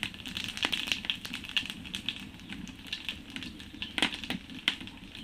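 Nigella seeds hit hot oil with a quick, light crackle and scattered sharp pops that keep going at close range, fairly quiet, with no voices.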